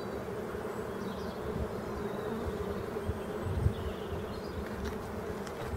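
Honeybees of colony No. 6 hum in a steady, soft, dense buzz during a March hive inspection, with a few slightly louder swells and no talking.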